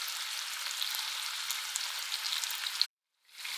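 Chicken frying in a skillet on a stove at medium-high, with a dense, steady sizzle that holds close and loud, then cuts out abruptly before fading back in.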